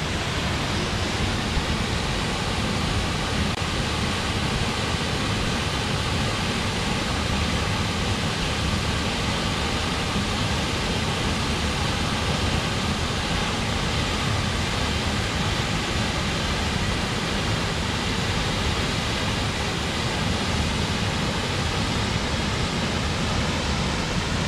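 Brook water tumbling over the top of a waterfall at Drysdale Falls in spring: a loud, dense, unbroken rush of flowing water, close and steady throughout with no voices.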